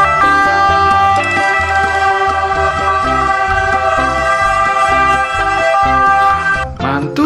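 Toy ambulance siren wailing loudly and steadily for about seven seconds, with a dense electronic tone over a repeating jingle-like pattern, fading out at the very end.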